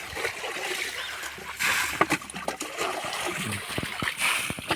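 Stream water scooped up and poured back out during fishing, giving repeated close splashes and trickles in an uneven rhythm, with faint voices in the background.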